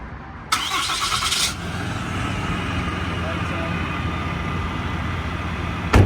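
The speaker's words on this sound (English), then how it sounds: "So I'll go ahead and fire up the truck." A work truck fitted with a vacuum pump and PTO-driven hydraulics starts up with a brief cranking burst, then settles into a steady, close idle rumble.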